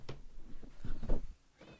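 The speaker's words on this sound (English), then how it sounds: "I gotta let this cat out because she's freaking out." A distressed cat meows several times in quick, strained cries, close and moderately loud, wanting to be let out of a room.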